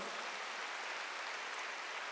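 Congregation applauding during a Sunday church service sermon, a steady, even wash of clapping heard from a distance at low level, with no voices over it.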